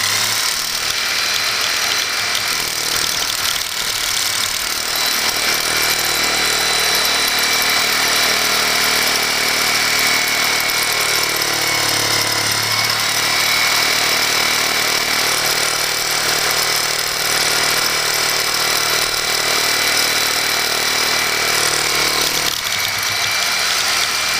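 A Sawzall reciprocating saw fitted with a Lenox carbide grit blade grinds steadily through cast iron, a loud, continuous, harsh buzzing rasp that holds unbroken for over twenty seconds before easing at the end.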